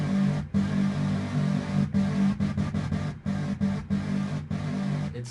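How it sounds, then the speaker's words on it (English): An unprocessed, detuned synth sound plays buzzy, sustained droning notes, broken by short gaps into a stuttering rhythm. It is steady and moderately loud, with no voice. "this is the original synth sound I did"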